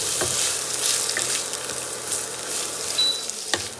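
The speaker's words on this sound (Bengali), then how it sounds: "পেঁয়াজটা হালকা লো আঁচে ফ্রাই করে নেবে।" Chopped onions fry gently over low heat with cumin in a pan, a steady close sizzle and hiss with a couple of brief utensil taps, fairly loud and even.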